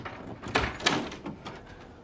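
A door is opened with a couple of wooden thunks and a rattling, scraping movement over about two seconds, fairly close and loud, with no talking.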